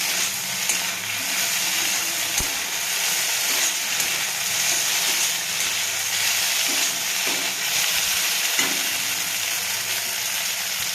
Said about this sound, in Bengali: এই যে আমার সয়াবিনটা লাল লাল করে ভাজা হয়ে গেছে।